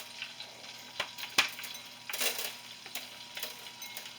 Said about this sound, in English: putting it inside the pan and cooking